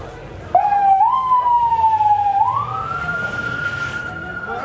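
An ambulance siren wails on a Gaza street, a sharp onset rising into a loud, sustained tone that sweeps and holds, fairly close, over low street background.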